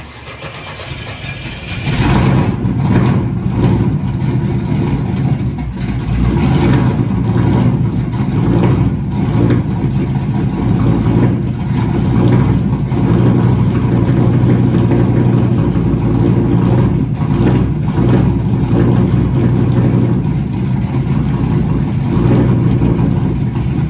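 A 1974 Chevy Nova SS hatchback engine catches after a brief quiet moment, then runs loud and steady at a rough, throbbing idle while the car is moved.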